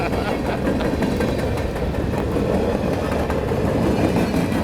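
VIA Rail passenger train rolling past a layout, a steady loud rumble with rhythmic wheel clatter filling the whole stretch.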